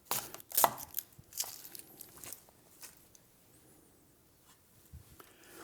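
Onions with their skins left on being chopped for beef stock, with a burst of sharp knife strikes on a board at the start, then scattered quieter taps and crunches, close up with no talking.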